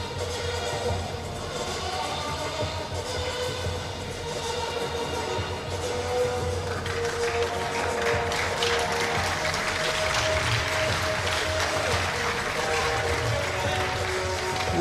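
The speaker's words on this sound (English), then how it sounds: "great support from the crowd here at BJJ Summer Week" Crowd applauding at a Brazilian jiu-jitsu competition during the BJJ Summer Week event, steady dense clapping that grows louder and fuller partway through amid a noisy indoor hall.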